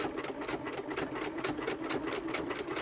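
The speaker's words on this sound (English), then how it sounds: "it starts and does a lock stitch right before it starts." A sewing machine runs a steady, continuous stitch, likely a lock stitch, while sewing tags onto journal cards. The motor hums and the needle chatters at an even, rapid rhythm at close range, with no voices.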